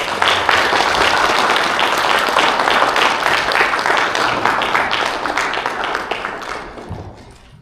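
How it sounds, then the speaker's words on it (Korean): Sustained, dense applause from mourners at a Korean Christian funeral farewell service, loud and steady for about seven seconds before tapering off near the end. "박수 제대로 한번 쳐주시죠."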